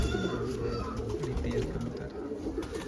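Pigeons coo softly in a fancier's loft, low repeated murmuring calls close by, mixed with other bird sounds and someone talking nearby.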